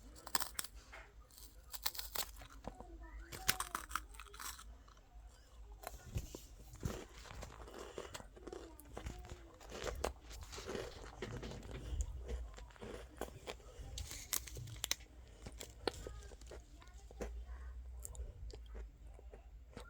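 A crunchy Binch chocolate biscuit is bitten and chewed close up, giving quiet, irregular crunches and soft mouth noises against a faint background.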